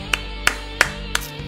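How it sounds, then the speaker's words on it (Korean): Applause for a player during a Naruto Storm 4 multiplayer league broadcast: five sharp, evenly spaced claps, fairly loud and alone, over a low steady hum. "그래도 파토스님께도 박수 한 번씩 부탁드립니다."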